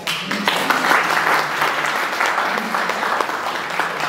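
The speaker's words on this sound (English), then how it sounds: "Round of applause for that." An audience gives a round of applause at a pro-life organization event, dense steady clapping that holds for several seconds.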